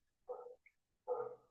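A neighbor's dog gives two short bark-like yelps about a second apart, fairly faint and with nothing else around them.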